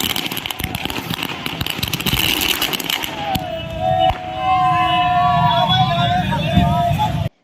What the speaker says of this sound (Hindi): जीत का जश्न आतिशबाजी कर मनाया गया